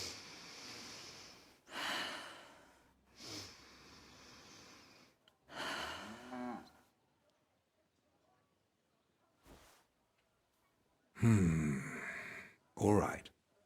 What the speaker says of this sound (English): Your breathing is improving.